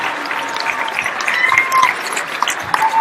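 A gym crowd at a Newell-Fonda high school varsity basketball game in Newell claps and cheers as the game ends, a steady, bright wash of many hands with scattered whistles, fairly loud and unbroken.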